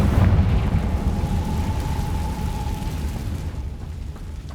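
A Confringo fire spell bursts in Hogwarts Legacy, a loud rumbling explosion that starts strong and rolls on as a dense, sustained roar, with a faint tonal ring running through the middle before it gradually thins out.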